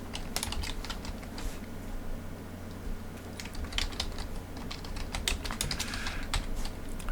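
Brisk clicking keystrokes on a computer keyboard as a file name is typed, with irregular bursts of taps and short pauses, close and fairly quiet over a faint background hum.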